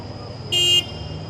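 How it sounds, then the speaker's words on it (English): A single short car horn blast, about a quarter second long, rings out clearly over low traffic rumble on a Tokyo street. "No need to honk."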